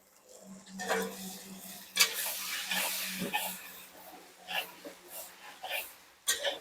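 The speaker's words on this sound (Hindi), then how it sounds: "अब इसको अच्छे से जो है ना पूरा खड़ा मसाला, तेल और प्याज को जो है पहले मिलाएंगे।" Five kilograms of onions with whole spices in oil are stirred in a large hotel kitchen pot in Ranchi, giving soft sizzling and intermittent scraping clanks of a spoon against metal, fairly quiet throughout.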